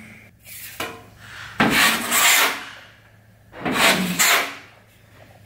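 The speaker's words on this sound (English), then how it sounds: "So we'll give it a quick light sand." Light hand sanding of a thin wall patch, two close scratchy rubbing passes each lasting about a second, separated by quieter pauses.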